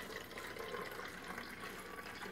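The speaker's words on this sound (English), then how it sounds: "pour that right through the funnel" Water from a bottle pours steadily through a funnel into another bottle, a continuous close trickle and gurgle running alone for the whole short stretch.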